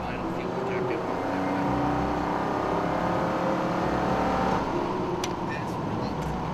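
Citroen SM under way, its engine giving a steady, continuous drone with road rumble close by throughout, a voice faintly audible in the background.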